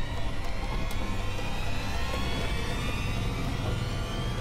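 A Polish Tur V off-road vehicle with front and rear diff locks engaged crawls up a near-vertical slope at low revs, its engine a steady, dense rumble that stays even and continuous throughout.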